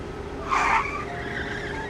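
A truck's tires skid as its brakes fail, a single short screech lasting about a third of a second that rises sharply over a steady low background hum and then fades.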